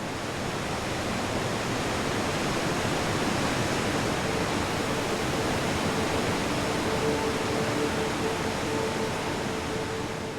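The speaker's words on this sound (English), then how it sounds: "making the Rhine Falls one of the biggest waterfalls in Europe" A dense, steady roar of rushing water from the Rhine Falls in Switzerland, a 23-metre waterfall, fills everything evenly and continuously, loud and unbroken.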